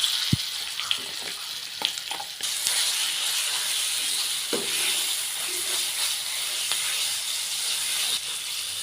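Mustard, fenugreek and cumin powder tempering in hot oil for a ripe red chilli pickle, a steady hissing sizzle close by, with a few clinks and knocks near the start.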